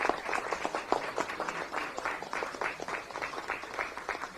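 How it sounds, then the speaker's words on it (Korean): An audience at a political rally gives the mayor of Paju warm applause, a steady, dense clapping that carries evenly from start to finish. "우리 파주시장이 힘내시라고 뜨거운 응원의 박수 다시 한번 부탁드리겠습니다."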